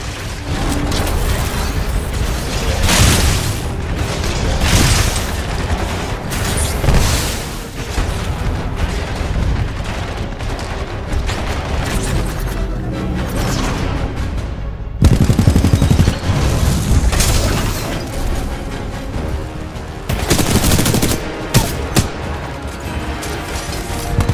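Rapid gunfire from the Titanfall 2 video game, with loud bursts of automatic weapon shots and booming impacts repeating densely throughout, occasionally broken by short gaps.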